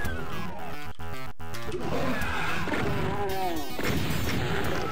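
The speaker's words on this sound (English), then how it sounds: "Explodey barrels" Barrels exploding in the video game Doom, played in PrBoom-RT, with several sharp blasts and crashes in quick succession over heavy background music and game noise, followed by squishy gibbing sounds.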